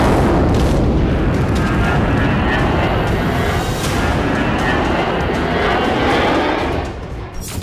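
IDF fighter jets flying over Gaza make a loud, continuous, rumbling roar that holds steady for several seconds and eases slightly near the end, with no voices.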